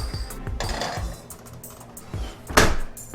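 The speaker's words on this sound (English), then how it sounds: "We're ready to put this right in the oven here." Pizza slides into an oven preheated to 450 degrees, with a few metallic clanks and clinks of the rack and pan, then a louder bang as the oven door shuts.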